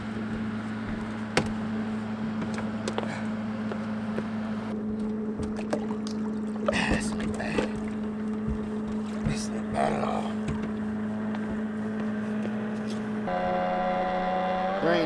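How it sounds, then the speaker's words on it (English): A 2020 Mercury 9.9 outboard motor drives a john boat on the water with a steady droning hum, engine note shifting near the end, while someone talks over it. "Nothing like the sound of a John boat in the morning."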